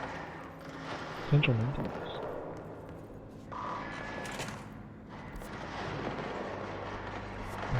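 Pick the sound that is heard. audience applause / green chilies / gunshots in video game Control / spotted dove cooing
gunshots in video game Control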